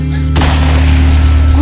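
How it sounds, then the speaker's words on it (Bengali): A single loud pistol shot cracks out in a Bengali horror film scene, one sharp sudden blast followed by a sustained ringing boom and tense droning music underneath. "গুলির শব্দ"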